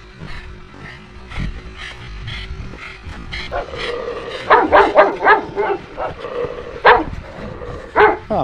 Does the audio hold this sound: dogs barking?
yes